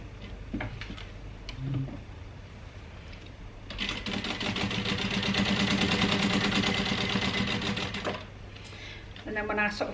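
A sewing machine stitches a crossbody bag in one steady, rapid run of mechanical clatter lasting about four seconds, with a voice talking before and after the burst.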